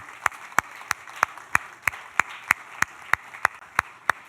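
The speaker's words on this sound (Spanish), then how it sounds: "Denle un aplauso al Señor, claro que sí." A church congregation claps at a worship service. The sharp claps land in unison on a steady, even beat, about three per second, over a quiet background.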